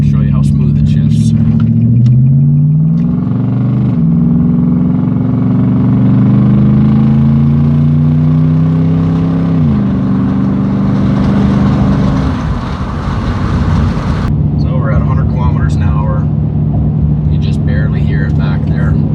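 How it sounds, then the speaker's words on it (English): A Nissan Armada with a glass pack exhaust pulls away under automatic shifting: a droning engine tone climbs in pitch, drops at each gear change, then settles into an even cruising hum with faint cabin noise. "Rather than shifting manually, I will do it in auto this time. Show you how smooth it shifts."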